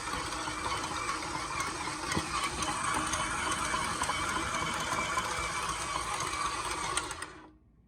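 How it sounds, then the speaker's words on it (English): A commercial KitchenAid stand mixer kneads a double batch of dumpling dough, its motor giving a steady, loud, close whir with a rhythmic mechanical rattle throughout before cutting off at the end. "We're using our commercial KitchenAid."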